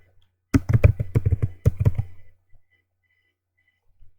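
A quick burst of clattering keystrokes on a computer keyboard as a ChatGPT prompt is typed, lasting about a second and a half before silence and a lone final tap.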